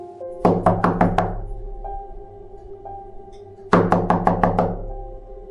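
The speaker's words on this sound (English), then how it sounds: "A minute later, there was a knock at the door." Knocking at a door at night: two quick bursts of about five sharp raps each, close and loud, separated by a pause, over a low sustained musical drone.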